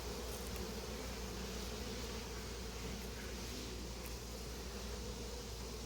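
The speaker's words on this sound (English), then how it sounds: "Get out, you wasp." A wasp buzzes around a beehive at an apiary, a steady droning hum amid a dense background of insect noise, continuous and fairly close, with no talk.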